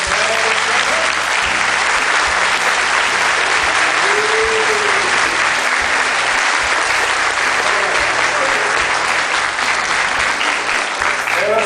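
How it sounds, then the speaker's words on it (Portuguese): Loud, sustained applause from an audience at a parish tribute honoring a nun, dense continuous clapping filling the room from start to finish. "uma salva de palmas para você"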